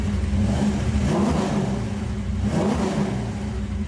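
A 1968 Chevrolet Camaro engine revs up twice in steady, throaty bursts, close and loud, its low rumble holding between revs.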